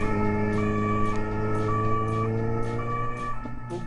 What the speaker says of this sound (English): Moments later, with sirens blaring